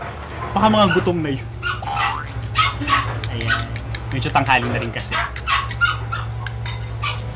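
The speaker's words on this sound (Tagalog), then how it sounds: "Grabe ang ingay ng aso, nakakainis." A dog barks and whimpers repeatedly on a farm during outdoor cooking, its yelps mixed in with steady talk nearby.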